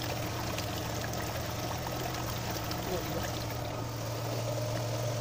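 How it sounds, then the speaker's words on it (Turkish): Dirty water drains steadily out from a car engine block during a coolant flush, a constant rushing, pouring stream with a low hum beneath it, loud and unbroken. "Aşağıdan boşalıyor abi, kirli su."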